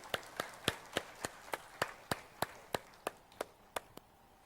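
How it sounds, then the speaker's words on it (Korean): Slow, sparse hand claps in a small indoor gathering, about a dozen sharp distinct claps in an even rhythm that thin out toward the end, with no talking. "박수"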